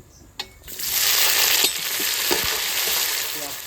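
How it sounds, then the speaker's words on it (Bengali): Chopped onion frying in a pan gives a steady, close sizzle for several seconds, broken by a few sharp clicks and scrapes of stirring against the pan. "সুন্দর লাল লাল করে ভাজা হয়ে গেছে"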